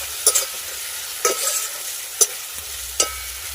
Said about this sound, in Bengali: এবার একটু নেড়ে নেব আর মশলা কষানো খুব সুন্দর একটা গন্ধ বেরিয়েছে